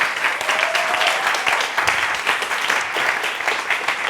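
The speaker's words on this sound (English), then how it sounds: "A big round of applause for Bruce Sterling." Audience applause fills a hall after a speaker is introduced at a futurism talk, a steady dense clapping that holds at full strength throughout, loud and close with no voices over it.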